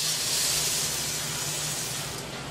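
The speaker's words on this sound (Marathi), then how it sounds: "आता मी ना गॅसवर कढई ठेवली, त्याच्यात थोडं तेल घातले, त्याच्यामध्ये ना मुरमुरे घालू." Puffed rice tipped into hot oil in a kadhai on a gas stove gives a steady, loud, broadband sizzling hiss that holds throughout and fades slightly near the end, with no talking.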